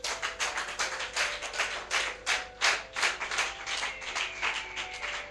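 A church congregation claps in acclaim to God, dense rapid clapping from many hands swelling and easing in waves, with no voices over it.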